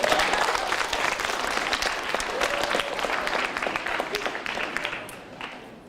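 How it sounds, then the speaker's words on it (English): A crowd's round of applause at a science fair event, dense and steady clapping close by that tapers off toward the end. "So let's give them a quick round of applause."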